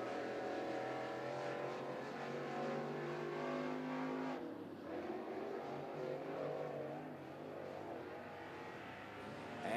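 Loud, steady engine roar from a crate late model race car on a qualifying lap, the pitch shifting as it sweeps through the corners and back onto the straight, close and continuous with no voices.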